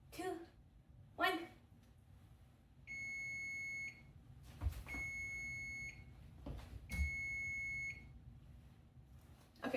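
A kitchen timer beeps after a countdown, giving three long, piercing electronic tones evenly spaced about two seconds apart, with people talking briefly in between.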